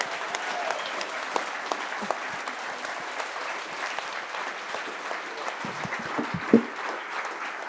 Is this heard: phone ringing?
no